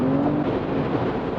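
Engine note of a BMW X5 xDrive 50e plug-in hybrid SUV with enhanced Iconic Sound, a steady, loud synthesized-sounding drone heard from inside the cabin while driving, with no talk.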